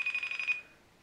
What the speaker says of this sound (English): Answer the FaceTime call.